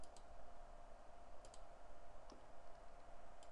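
A computer mouse gives a handful of faint, sparse clicks over a steady low hum of room or computer noise.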